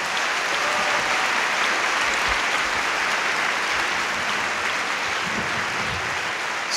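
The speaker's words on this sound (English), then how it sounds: "And can we give a round of applause to this incredible panel?" Loud, sustained applause from a crowd at a community panel on immigration and sanctuary cities, a thick and unbroken roar of clapping that stays level for the full stretch.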